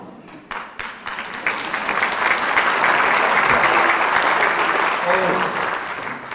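Sustained applause from an audience at a project celebration event, starting with a few scattered claps and quickly swelling into steady, dense clapping that stays loud throughout, with faint voices mixed underneath.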